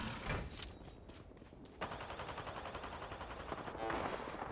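Gunfire from the video game Apex Legends comes in rapid, dense automatic bursts that run almost continuously, loud and close, with overlapping shots throughout.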